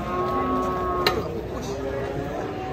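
Long, low lowing of an enraged cow drawn out over steady crowd noise from onlooking villagers, with a sharp click partway through.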